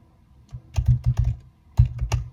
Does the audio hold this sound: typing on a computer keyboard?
yes